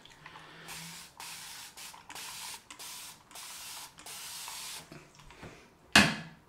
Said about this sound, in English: And just spray some more water on my face.